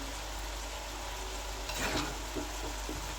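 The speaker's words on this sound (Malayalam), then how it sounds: "ഇനി ഇത് മൂടിയൊന്നും വെക്കാതെ നമുക്കിങ്ങനെ ഇളക്കി ഇളക്കി കൊടുത്ത് വേവിച്ചെടുക്കാം" Brinjal cooks uncovered in an open pan with a faint, steady sizzle. A brief scraping stir rises midway, followed by a couple of softer strokes, all quiet and without voices.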